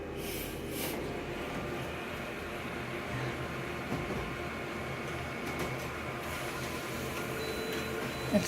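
A printer or scanner document feeder runs, pulling an art exhibition flyer through with a steady mechanical whirring and soft clicks, close and moderately quiet, alone throughout.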